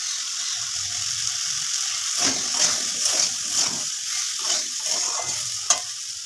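Vegetable curry being stirred in a pan: repeated scraping strokes of a spoon against the metal over a steady, close sizzle, with no talking.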